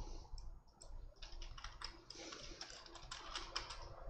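Rapid, uneven keystrokes on a computer keyboard as a name is entered, a quiet run of close clicks with brief pauses, no talking.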